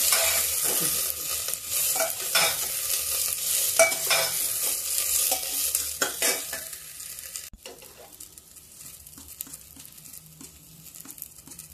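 Peas and tomato masala being fried and stirred in a pan, a loud steady sizzle with repeated scraping stirs that drops abruptly to a quieter, softer frying hiss partway through.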